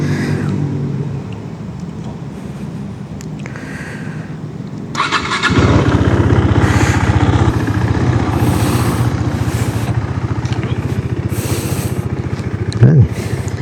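A KTM RC390 motorcycle engine cranks and fires up, then settles into a steady loud warm-up idle with a quick throttle blip near the end, while a person speaks nearby.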